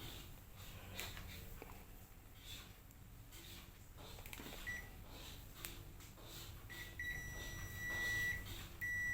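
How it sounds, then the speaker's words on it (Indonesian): A digital multimeter's buzzer beeps briefly several times near the end during a low-resistance check on a washing machine motor, the thin, steady tones faint against quiet background handling noise. "bunyi buzzer untuk pemeriksaan resistansi yang kecil"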